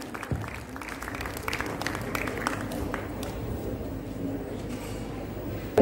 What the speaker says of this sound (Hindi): एक बार जोरदार तालियां हो जाए संजय सोनार सर के लिए